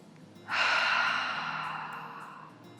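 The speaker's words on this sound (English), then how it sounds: "Take one more big, deep breath." During a yoga class, one long, audible breath begins sharply and then fades slowly over about two seconds, close and fairly clear against a quiet room.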